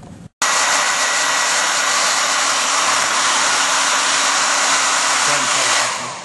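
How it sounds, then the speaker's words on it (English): A hair dryer blows hot air at an iPhone 3G touchscreen during a repair, switching on after a brief click and running as a loud, steady close-up whoosh before tapering slightly at the end. "I guess I'm going to run the hairdryer on it"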